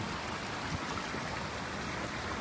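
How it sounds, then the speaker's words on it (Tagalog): A strong river current rushes past in a steady, dense wash of water noise, close and unbroken, with no voices. "Malakas pala yung agos ngayon"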